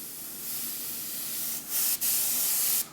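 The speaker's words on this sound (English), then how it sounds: "just modulating the air pressure by barely pressing down on the trigger" Single action airbrush sprays a steady hiss of air, its pressure swelling and dipping as the trigger is feathered, with brief cutoffs near the end; close and alone, no talk.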